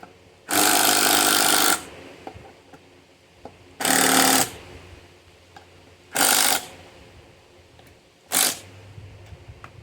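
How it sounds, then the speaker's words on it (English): A compact Hercules 12-volt impact driver drives screws into wood for a workbench organizer, in four loud, rattling bursts of varying length separated by short pauses, with no talking. "Definitely recommend the this little tiny Hercules impact from Harbor Freight, 12 volt, pretty strong."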